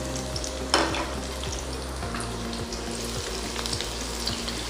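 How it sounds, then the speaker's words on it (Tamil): Steady crackling sizzle of mustard seeds frying in hot oil, with small pops and occasional stirring scrapes throughout. "எண்ணெய் காஞ்சதுக்கப்புறம் கடுகு போட்டுக்கலாம்"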